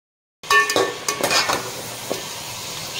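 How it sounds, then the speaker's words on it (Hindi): Tomato, onion and yogurt puree poured into deep-fried chicken in a karahi, setting off a loud sizzle with a few spoon stirs and clinks against the pan before it settles into steady frying. "ये जो है टमाटर प्याज और दही की प्यूरी तैयार हो गई है, और अब मैं इसे ऐड कर दूंगी"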